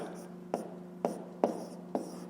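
Pen or pencil on paper writing numbers for a fifth-grade maths exercise: four short, distinct scratching strokes spaced about half a second apart, close and fairly quiet over a faint steady hum.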